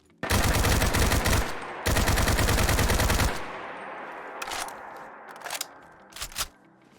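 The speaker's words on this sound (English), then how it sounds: "The Steyr AUG." Steyr AUG rifle from a Fallout 4 modern weapons mod firing two long, loud full-auto bursts, then several shorter, quieter bursts trailing off.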